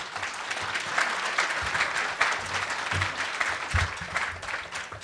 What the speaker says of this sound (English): Round of applause for the work.